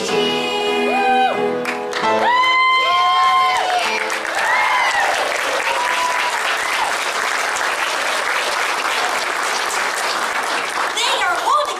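In a theatre staging of The Snow Queen, sung melodic voices give way to a loud burst of audience applause at a gala scene, with dense clapping and some cheering that continues strongly to the end.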